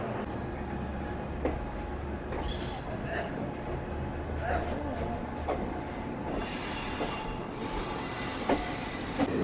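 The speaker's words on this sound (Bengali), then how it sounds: "সামনেই দাঁড়িয়ে আছে আমাদের ট্রেন" A train stands at a small rural station, its low engine rumble droning steadily beneath occasional clanks and faint squeals while someone talks.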